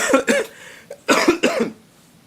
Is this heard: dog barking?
no